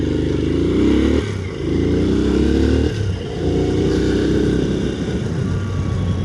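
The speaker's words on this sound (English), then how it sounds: "So these have the CG engines, these little XRs. It's a nice sweet little engine." A Honda XR125L trail motorcycle with a small CG 125 single-cylinder engine ridden off road, loud and close, its buzzing exhaust rising through repeated revs with brief dips as the throttle is rolled off between gears.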